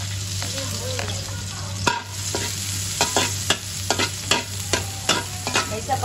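Garlic sautéing in a little oil in a pan for black squid pancit, a steady close sizzle broken by repeated scraping stirs of a utensil, no talking.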